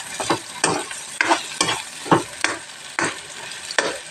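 Hotdog and cheese get stirred through carbonara in a pan, with about a dozen scraping strokes falling in a loose, regular rhythm over a soft sizzle, close by and with no talking.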